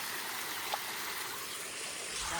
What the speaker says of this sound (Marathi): आणि हा बघा डोंगरातून पाणी येतोय.